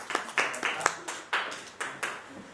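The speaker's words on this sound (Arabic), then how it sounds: "صفقوا له سجاد." A classroom of students claps for a classmate in a quick, uneven scatter of hand claps, moderately close and not very loud, lasting a couple of seconds.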